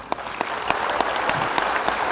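A live audience claps steadily through a public speech event, a dense continuous wash of applause with a few sharper individual claps standing out, fairly loud and with no talk over it.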